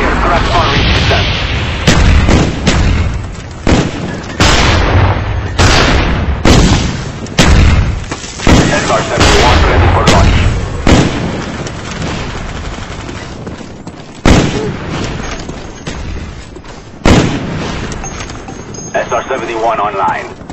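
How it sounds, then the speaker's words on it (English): Bomb strikes land in a combat video game, a loud series of booming blasts and rapid gunfire bursts spaced every second or two, with voices speaking over the barrage. "Bomb strike coming in."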